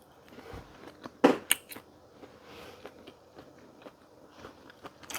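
Close biting into a sliced northern Thai sai ua pork sausage, a sharp crunchy bite then softer chewing noises, quiet otherwise with faint background.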